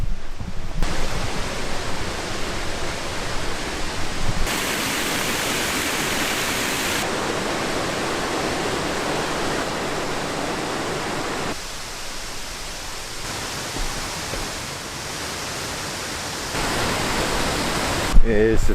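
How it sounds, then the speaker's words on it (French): A river flowing near Ginzan Onsen, Japan, a broad continuous rushing wash of water, loud and close, steady throughout with slight shifts in level. "cette petite randonnée là le long de la rivière de Ginzan Onsen"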